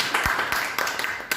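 A short burst of a few sharp hand claps in quick succession under someone speaking in Hindi, close and moderately loud.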